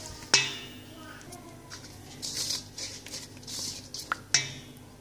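Brown sugar, white sugar and Nutella mixed in a bowl, soft scraping and stirring with two sharp utensil clinks against the bowl, close and quiet with no talk.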